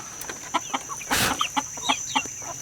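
Chickens cluck nearby in short repeated bursts with a steady rhythm. One louder, noisier squawk rises in the middle, and a faint constant whine sits in the background.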